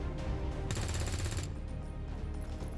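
Gunfire from XCOM, a combat video game, comes as a rapid, loud burst of mechanical shots over a low rumble, with a bright crackling blast in the middle and a steady rattle continuing after it.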